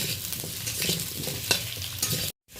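Potato pieces fry in hot oil with salt and turmeric, a loud, steady sizzle with stirring scrapes and a few sharper pops, cutting off to silence briefly near the end before resuming.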